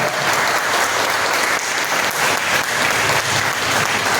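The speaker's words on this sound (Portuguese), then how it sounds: "Agora eu te convido a dar a mais forte salva de palmas ao Senhor Jesus" A church congregation gives loud, sustained applause during a worship service, a dense close roar of many clapping hands that stays even throughout.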